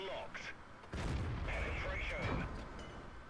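The FV201 A (45) tank's main gun firing in World of Tanks, with heavy booming shots at uneven intervals over a constant rumbling engine and battle din.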